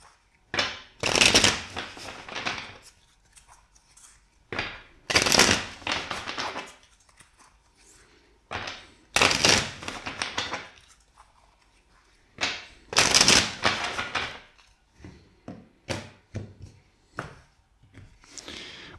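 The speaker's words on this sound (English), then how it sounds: "let's shuffle the deck four times for you" A deck of cards is riffled and bridged four times in a row, each loud crisp shuffle followed by softer taps as the cards are squared.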